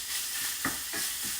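Sausage browns in a pan, giving a constant close sizzle and hiss with a couple of brief louder spurts, no voices.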